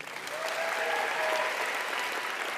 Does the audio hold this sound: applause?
yes